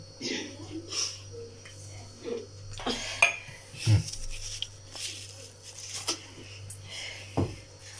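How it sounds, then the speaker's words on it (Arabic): Pieces of bassaria fish laid one by one into a baking tray, giving close, light clinks and taps of metal and dishware in an irregular rhythm, with a voice talking at times. "ارصه في الصينيه يا حبايبي ماشي واحده واحده كده"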